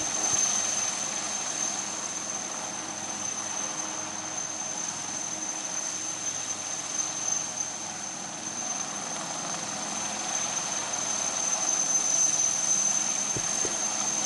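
An Indian Navy ALH helicopter hovers over the water at the Gateway of India during a Navy Day ceremony, its engine and rotor giving a steady, continuous drone with a high whine, constant and unbroken, no voices.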